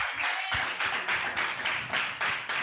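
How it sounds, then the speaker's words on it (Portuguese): A church congregation claps enthusiastically after a sermon, a somewhat distant, rhythmic burst of hand claps with a few louder thumps, steady across the moment without talking. "Pode aplaudir bem forte."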